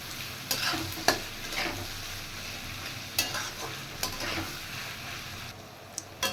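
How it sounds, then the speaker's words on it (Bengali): Chopped onions frying until reddish-brown in a pan, a close crackling sizzle punctuated by several distinct scrapes and stirs of a spatula against the metal, moderately quiet and without speech. "তার সাথে দিয়ে দেবো কুচিয়ে রাখা পেঁয়াজ পেঁয়াজটা লাল করে ফ্রাই করে নেব"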